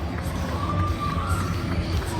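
Crowd cheering for a winner at an awards ceremony, a steady mass of voices and whoops held at an even level for a couple of seconds.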